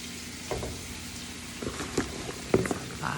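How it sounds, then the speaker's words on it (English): Onion slices frying in melted butter in a pan, a steady soft sizzle with a few louder crackling bursts as they cook, close and alone with no talk. "now the butter is melted and sizzling, I'm going to add all my onion slices"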